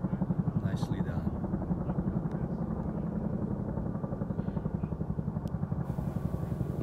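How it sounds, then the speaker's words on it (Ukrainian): A firefighting helicopter working a wildfire in California gives a steady, fast rotor thump that stays loud and close throughout, with faint voices in the background. "Наша відстань від цього гелікоптера, де він скидував воду"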